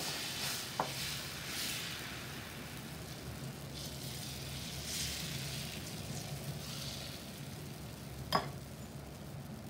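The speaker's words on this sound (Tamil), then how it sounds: "இன்னொரு தோசை எப்படி ஊற்றலான்றது பார்த்துடலாம்." Dosa batter sizzling on a hot pan for paneer dosa, a soft steady frying hiss with gentle scraping, and a sharp metallic clink near the start and again near the end.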